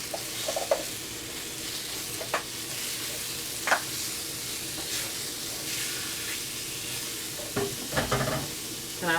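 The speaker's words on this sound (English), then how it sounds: "I'm gonna go ahead on and add these shrimp." Shrimp frying in a deep double-up skillet for fajitas, a steady sizzle running throughout with occasional spatula scrapes and stirring clatters, close and moderately loud, no talking.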